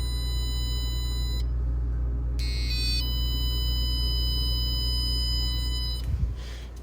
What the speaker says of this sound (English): if the light is still on, it'll sound the alarm